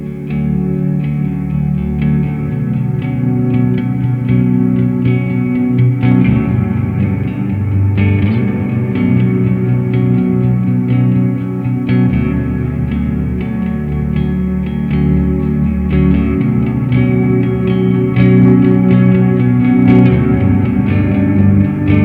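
Electric guitar played through a Walrus Audio Fundamental Ambient pedal on its Lush setting, with sustained chords washing into a dense, shimmering ambient reverb that rings continuously throughout.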